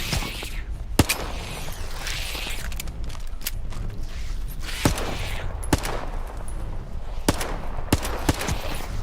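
Pistol fire in the video game STALKER 2: Heart of Chornobyl, roughly eight sharp shots spaced irregularly over a steady background of game ambience and mechanical noise.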